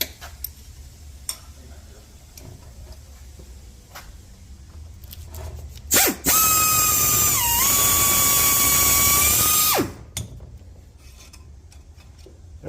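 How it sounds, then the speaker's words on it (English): A reamer cuts exhaust valve seats in a 5.2 Magnum cylinder head, scraping and ticking at first, then a loud, sustained high-pitched whine for about four seconds before stopping. "Now I have a reamer."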